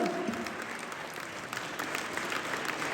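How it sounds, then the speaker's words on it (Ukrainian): Audience in a charity event hall applauds soldiers present, a dense, steady wash of clapping from many hands that holds evenly throughout. "Давайте аплодувати їм і дякувати за кожну мить життя."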